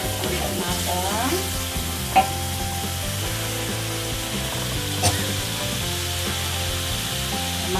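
Chilies for tomato sambal sautéing in a pan, a steady close sizzle with scraping stirs throughout, two sharper clanks of the utensil against the pan, and a faint tonal hum in the background.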